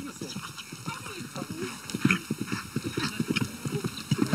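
Horses in Kyrgyz or Mongolian herding country clip-clopping across the ground, a dense, irregular run of hoof beats throughout, with an occasional whinny and faint voices in the background.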